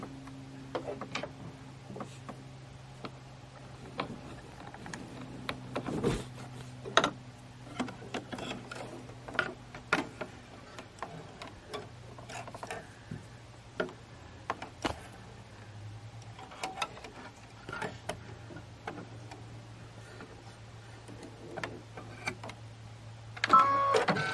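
An embroidery machine stitches out a tack-down line, a low steady motor hum broken by quiet, irregular ticking and clicking that carries on for the whole span.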